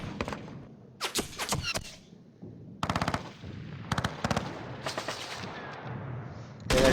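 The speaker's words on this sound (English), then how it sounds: "Yeah, that sounded like a machine gun shooting back, didn't it?" Machine gun fire from the Panzer Campaigns wargame: repeated loud bursts of rapid shots in separate volleys over a steady rumbling background, with no talking.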